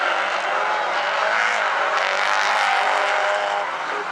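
Stinger 8 race cars at South Sound Speedway roar steadily through a right-hand turn, a dense, continuous engine drone held loud and close with no break across the whole stretch.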